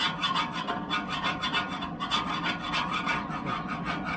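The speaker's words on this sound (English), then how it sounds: "So it just takes a lot of scraping." Metal scraper rasping across a Blackstone griddle top in quick, rhythmic back-and-forth strokes, close and steady with no talking.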